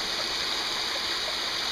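A backyard pool waterfall water feature fed by two Pentair WhisperFlow pumps gives a loud, steady rush of falling, splashing water that stays even throughout, with no voices.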